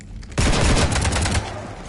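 A sudden loud burst of rapid automatic gunfire in the Mass Effect 3 video game, holding for about a second before cutting off, alone with no talk.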